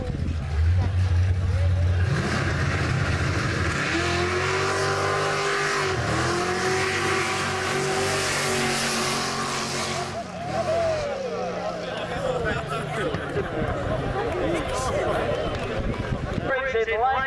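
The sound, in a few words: drag racing cars at Back Beach Drags, Bunbury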